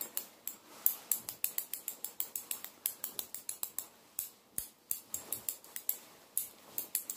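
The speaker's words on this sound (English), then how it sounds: "Boom, it's time for some scissors," Rapid, crisp snipping of scissors, dozens of sharp metallic cuts in an irregular rhythm, close and clear with no talking.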